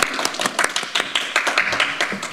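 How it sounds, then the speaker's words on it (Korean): Applause for a candidate introduced at a Justice Party press conference for local-election candidates, with scattered hand claps rising and falling in bursts across a small room, fairly close and steady. "박수로 환영해 주시면 감사하겠습니다"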